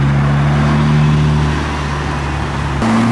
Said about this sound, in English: Have a Mark II MX5.